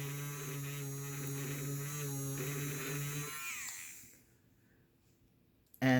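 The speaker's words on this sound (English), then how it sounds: "The second thing you can always do is take your electric eraser." An electric eraser used on a coloured drawing of fabric folds buzzes with a steady, close motor hum for a few seconds, then winds down into near silence before a brief final burst.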